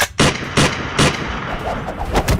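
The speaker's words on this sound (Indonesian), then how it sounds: "Ternyata senjata itu bisa menembak peluru juga" A gun fires bullets in an animated series. Three sharp, loud shots come at even intervals, then a quicker run of smaller pops.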